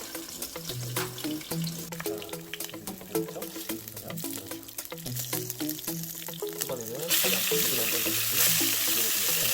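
Whole pork belly sizzling in oil inside a covered pot, a steady crackling fry with spattering pops, moderately quiet and close, under a layer of clinking and scraping, briefly rising to a louder hiss near the end.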